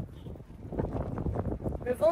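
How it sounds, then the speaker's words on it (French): Strong wind buffeting a microphone during an outdoor electric bike ride in Toulouse, heavy low rumbling gusts throughout, with a voice breaking in at the end. "Mais il y a beaucoup de vent."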